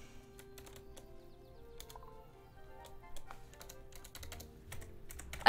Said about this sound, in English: I can't press tab. I can't press anything. I can't press any keys.